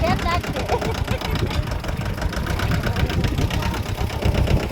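A tractor engine runs steadily on a family farm with a rough, chugging idle and a fast knocking rhythm, loud and close, with voices over it.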